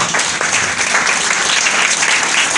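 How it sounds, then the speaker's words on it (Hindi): A church congregation bursts into loud, dense applause, many hands clapping together close and full for a few seconds without letup. "खुदा के जलाल के लिए जोरदार तालियां हो।"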